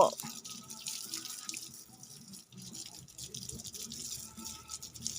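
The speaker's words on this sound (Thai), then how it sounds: "น้ำก็ไม่ค่อยไหลเพื่อนๆ น้ำไหลค่อย" Weak trickle of water from a tap outdoors while washing cars, a thin, faint running sound that continues quietly for several seconds.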